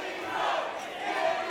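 Juggalo wrestling crowd cheering for Danny Moe at a JCW match, a loud, continuous roar of many voices filling the arena without a break.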